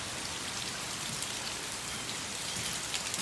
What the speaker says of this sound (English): Quite the rain we got out there